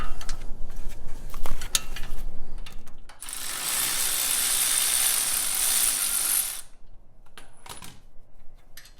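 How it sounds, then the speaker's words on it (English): Ratchet wrench with a 21mm socket working loose the caliper bracket nuts on a Jeep Wrangler JL brake job, heard as a close rapid clicking and a long steady grinding whir, with no talking. "take our 21mm and we got to break those nuts loose that are holding the caliper bracket on the back"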